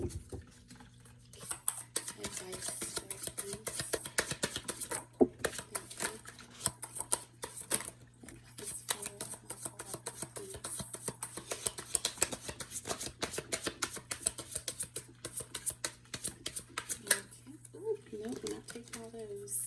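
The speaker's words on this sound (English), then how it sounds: "One more shuffle, guys." Tarot cards are riffled and shuffled in rapid bursts of crisp flutter, repeated throughout, with a voice talking over them now and then.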